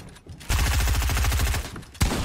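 Rapid gunfire in a console-only 1v1 video game match, a loud fast burst of repeated shots that cuts off briefly and resumes, with no talk over it.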